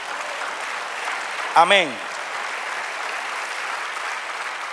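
A church congregation gives a steady round of applause, moderately loud and continuous, while one voice calls out briefly partway through.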